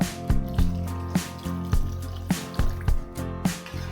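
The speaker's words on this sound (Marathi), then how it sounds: "आता आपण याच्यात थोडंसं पाणी ऍड करून घेऊया आणि 5 मिनिटं चांगल्यापैकी उकळवूया" Water added to a pan of peas curry, a string of short wet splashes and drips with a muffled liquid gurgle, close and moderately loud, no talking.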